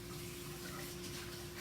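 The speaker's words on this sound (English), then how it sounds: "let me wash my hands again" Water runs from a kitchen sink tap as hands are washed during challah bread baking, a steady, soft, continuous rushing with a low hum beneath, unbroken and with no voices.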